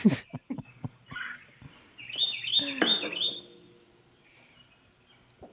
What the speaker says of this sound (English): You have the same birds in your backyard that are in my backyard. So noisy.